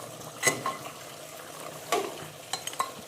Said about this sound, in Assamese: এইখিনি দিম লৰাই আমি আকৌ 5 মিনিট সেনেকৈ ফ্ৰাই কৰিম